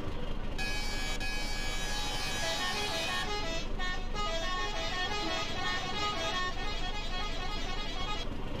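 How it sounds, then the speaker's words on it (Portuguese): An Iveco Stralis truck horn sounds in the driving game Euro Truck Simulator 2, a loud sustained tonal blare that holds for several seconds over steady engine and road noise. "A buzina disto."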